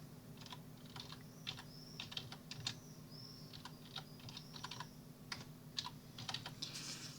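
A computer keyboard being typed on for a search query, quick irregular clusters of light key clicks over a faint steady hum, close and fairly quiet with no speech.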